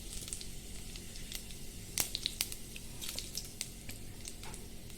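Cumin seeds and a bay leaf sizzle in hot oil for tempering, a faint steady crackle with scattered sharp pops near the middle of the clip and no talking.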